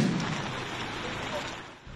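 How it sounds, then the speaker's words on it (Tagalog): Heavy rain pouring down over flooded streets in Davao City, a dense steady hiss of downpour throughout, with a voice faintly present beneath it. "Binahari ng ilang kalsada sa Davao City dahil sa pagbuhos ng malakas na ulan."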